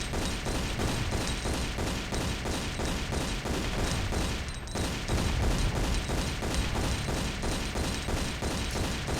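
Rapid pistol fire in a Tomb Raider level editor game, a dense, loud, continuous stream of shots with a brief pause partway through.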